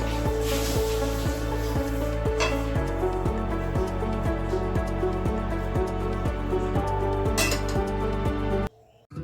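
Cooked bathua pitla, a traditional Bengali leafy-greens dish, scooped from a pan into a bowl: steady clinks and scrapes of a metal spoon against cookware repeat through the clip, close and fairly loud, over a constant background hum, with no talk.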